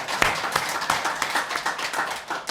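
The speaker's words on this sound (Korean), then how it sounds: "박수 한번 쳐주시겠습니다" A church congregation at a gospel meeting in Dongtan claps together, a steady dense patter of many hands held at moderate loudness for the full stretch, with no talking over it.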